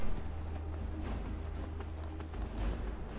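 Horse hooves clip-clop steadily in Skyrim, a quick, even gallop over a low ambient bed, moderately loud and alone without talk.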